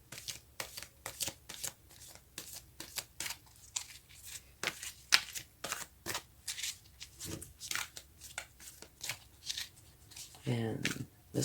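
A Psychic Tarot Oracle card deck is shuffled in a rapid run of crisp, close riffling snaps and flutters, while a voice speaks briefly near the end.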